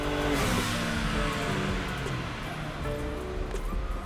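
A tuned BMW M3 G80 with a locked DME roars hard on a dyno run, a loud, sustained engine howl with rushing noise filling the whole stretch, no voices over it.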